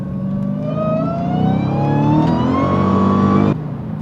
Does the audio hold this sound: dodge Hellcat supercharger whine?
yes